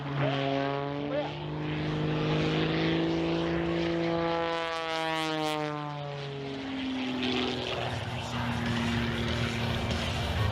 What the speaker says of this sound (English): Watch him as he works the rudder of that airplane.